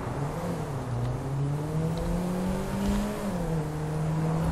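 A car engine in GTA 5 hums steadily at low pitch, its tone rising and falling slightly as if revving gently, continuous and close with no talking.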